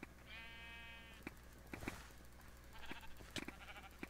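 A sheep in the Minecraft Mineplex arcade game gives a quavering bleat early on, followed by faint game clicks and soft thuds in a quiet background.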